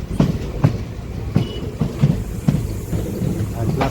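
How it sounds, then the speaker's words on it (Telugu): A local MEMU train at Mangalagiri railway station platform rolls past with a regular series of heavy wheel clacks over a rumbling background. "ప్లాట్ఫామ్ నెంబర్ 1కి అయితే అసలు చూసారు మన ట్రైన్"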